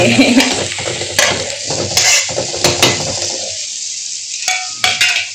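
Eggplant (brinjal) slices fry in a pan in a home kitchen, a steady close sizzle broken by repeated utensil scrapes and clinks as the pieces are stirred.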